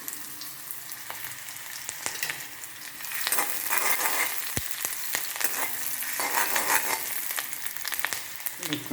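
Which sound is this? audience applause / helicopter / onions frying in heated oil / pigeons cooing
onions frying in heated oil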